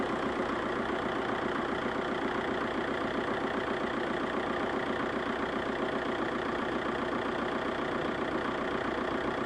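Volkswagen A4 TDI diesel engine idling steadily and close by during a fuel flush after gasoline got into the diesel tank, a continuous even clatter with no talk.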